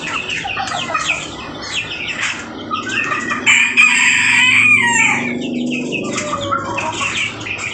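Hens clucking and chattering throughout, with a rooster crowing loudly in the middle, close by and clear, at a village chicken farm.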